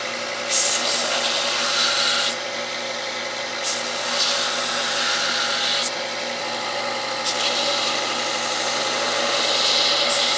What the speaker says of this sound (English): All right, back to the belt sander.